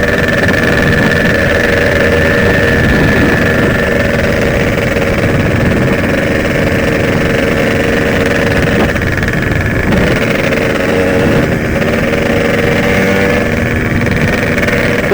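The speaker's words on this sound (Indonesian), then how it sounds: "Motor si Bima menggila" A motorcycle engine runs continuously at close range, a loud, steady mid-pitched drone with a whining tone on top and small shifts in revs, with no voices over it.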